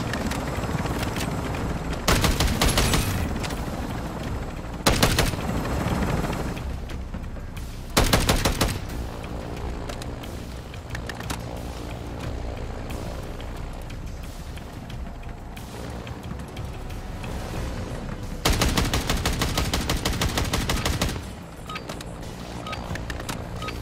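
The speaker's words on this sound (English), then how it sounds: "Lay down some cover fire." Video game gunfire in Call of Duty, sustained loud automatic bursts repeating over about twenty seconds, dense and continuous with short pauses between volleys.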